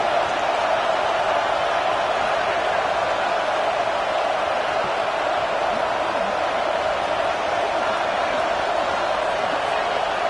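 A football stadium crowd roars steadily as the home fans try to rally their defense for a red zone stop, producing a dense, unbroken wash of noise that holds at a constant loud level throughout.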